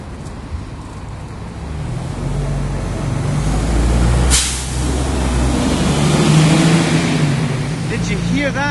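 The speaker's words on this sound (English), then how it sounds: "Did you hear that? The sound of the bus. Well, that's a diesel one." First Aberdeen diesel bus going past on a city road, its engine growling up close with a sharp air-brake hiss midway before it accelerates on, traffic noise around it.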